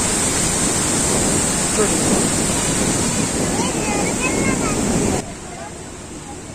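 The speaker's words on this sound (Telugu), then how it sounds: "వాటర్ ఫ్లో అవ్వడానికి అలా వెళ్తుంది." Water pouring out of Madduvalasa dam, a steady loud rushing wash that fills the first five seconds before dropping to a quieter outdoor hush, with a brief spoken word over it.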